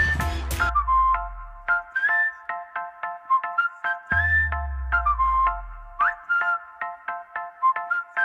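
Pressure cooker whistling on the stove while mutton cooks: two loud steam bursts followed by a long stretch of repeated short whistle toots and beeps, close and alone with no talk.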